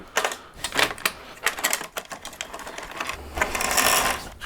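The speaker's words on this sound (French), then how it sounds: "On va démonter ton pédalier." A bicycle crankset being dismantled, with a close, rapid series of sharp metallic clicks and ratcheting taps in bursts, and no talk.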